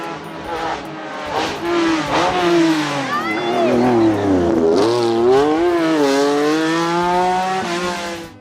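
A Lancia Stratos HF engine revs loud and close, rising and falling in pitch with crackling pops and bangs, sustained throughout without voices.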